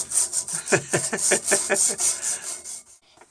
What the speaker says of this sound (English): It's like scratching all the dirty stuff off of it.